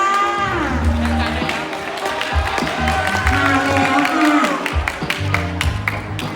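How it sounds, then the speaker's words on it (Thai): A crowd at a cotton-weaving craft workshop event in Ayutthaya claps and cheers to welcome a young performer, the scattered claps and shouts blending under a voice and tonal music. "ปรบมือต้อนรับนะน้องไรอันของเราอีกรอบหนึ่ง"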